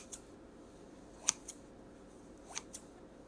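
Scissors snip close by in a quiet kitchen while making homemade pizza dough, a few crisp separate cuts with brief pauses between them.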